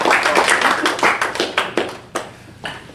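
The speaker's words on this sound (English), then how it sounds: "Yeah, you can applaud." A small lecture audience applauds after a family law talk, with scattered distinct claps that thin out and fade to a few isolated final claps.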